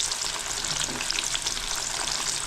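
Raw banana slices deep frying as chips in hot oil, a steady dense sizzle and bubbling hiss that continues without pause, close and fairly loud with no speech.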